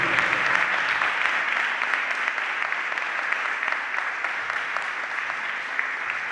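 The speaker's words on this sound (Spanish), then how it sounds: "denle un fuerte aplauso a Dios" A church congregation applauding to God during a sermon, a steady, dense wash of clapping from many hands that holds at an even level throughout.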